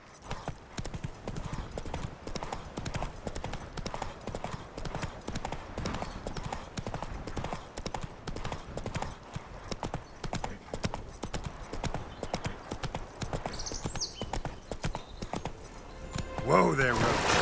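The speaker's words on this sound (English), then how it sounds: "Whoa there, Roach. Giddy up." Horse hooves clip-clop in a video game, a quick, steady trotting rhythm that carries on throughout at moderate level, ending with a louder burst of noise.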